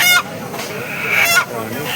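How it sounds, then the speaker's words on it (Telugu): Chickens at a busy tribal weekly market in Seethampeta, with sharp squawks and clucks rising in two bursts over steady crowd noise and murmuring voices. "సీతంపేట సంతలోనే ఈ కోళ్ళు తెచ్చి అమ్ముతున్నారండి"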